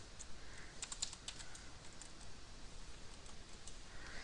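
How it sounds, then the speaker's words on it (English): Typing on a computer keyboard with one hand, faint irregular key clicks over a steady background hiss, a few taps standing out near the start, with no talk. "typing with one hand"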